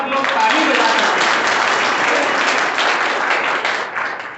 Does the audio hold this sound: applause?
yes